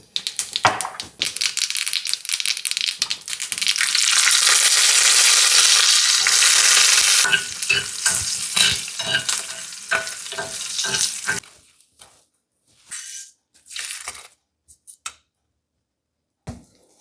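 Tempering spices poured into hot sambar for a Pongal feast, giving a loud, steady frying sizzle that fades into scattered crackles and short bursts before dying away, with no talking.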